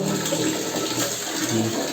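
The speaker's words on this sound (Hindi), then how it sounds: "देखो मैं बाल्टी भर रहा ताकि कूलर में पानी डालूं" Water gushes steadily from a tap into a bucket, a loud, continuous close-up rush that shifts slightly in pitch as the bucket fills.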